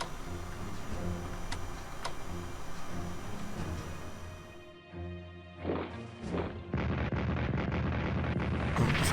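Booming artillery fire in the World War I strategy game Strategic Command, a few rumbling blasts near the end following steady ticking interface sounds, moderately loud with no talk.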